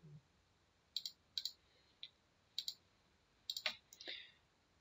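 A computer mouse gives crisp paired clicks in quick succession, repeated several times with short gaps, quiet and close against a near-silent background during parametric modeling software work.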